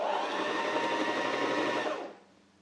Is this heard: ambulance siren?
no